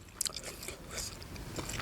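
Crunchy baby octopus being bitten and chewed with a spicy dipping sauce, a few close, crisp crunches and scraping bites at a quiet level with no talking.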